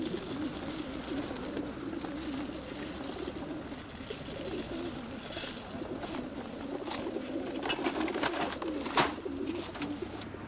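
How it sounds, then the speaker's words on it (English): Racing pigeons coo inside transporter crates, many overlapping soft throaty calls at close range, steady and low with occasional louder bursts, and no talking. "It's top up time for the pigeons."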